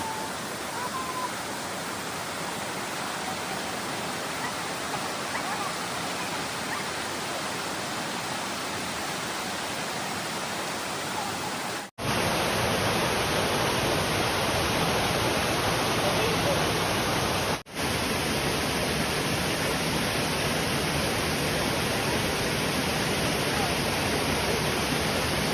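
The Aanaimaduvu waterfall rushes in a dense, steady roar of falling water, loud and close, filling the whole scene without a break.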